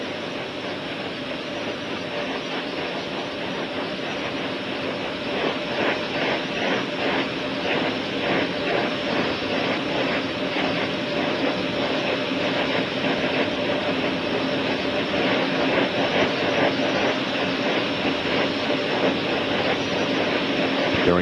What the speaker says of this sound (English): The steering check on the 3 main engines.